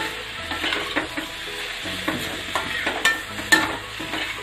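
Radish and green chili pickle frying on a medium flame, with steady close sizzling and repeated scraping stir strokes of a spoon against the pan.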